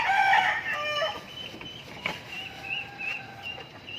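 Pet chickens, including a caged Talisay hen, cluck and crow in a backyard coop, with a loud burst of calls at the start followed by scattered, softer clucks and short cries throughout.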